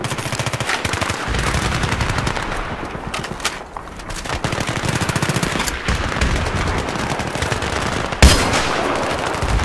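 Battlefield 3 gunfire: loud, sustained bursts of rapid automatic fire from several weapons, dense and close. A brief lull comes before a sharp, heavy shot near the end.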